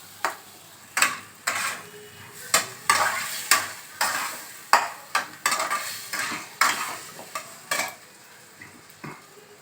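Taro is stir-fried in a pan, with about a dozen sharp scrapes and clacks of a utensil against the pan at irregular intervals over a soft continuous sizzle.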